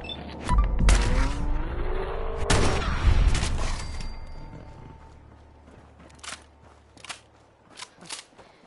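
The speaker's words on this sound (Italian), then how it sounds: "Segui gli spari e troverai i predoni." Raiders open fire in the video game Fallout 4. A loud, dense volley of shots and impacts fills the first few seconds, then fades to scattered, sharp single cracks spaced farther apart.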